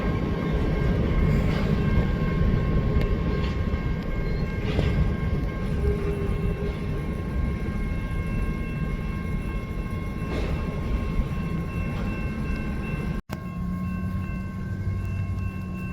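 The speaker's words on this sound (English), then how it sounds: "the very next train would have an interesting trailing unit on it" A BNSF freight train with a Burlington Northern locomotive rumbles steadily past at close range, a continuous loud roll of wagons with wheel noise and a faint tonal whine, no voices over it.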